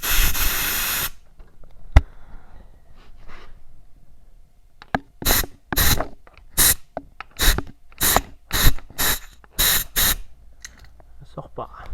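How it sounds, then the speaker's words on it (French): Allen key and hand work on the variator of an MBK 51 Magnum moped: a brief hiss at the start, then a run of about nine sharp, loud, regularly spaced scraping or ratcheting bursts close by, with no talk. "Donc on va voir avec la clé Allen et les mains."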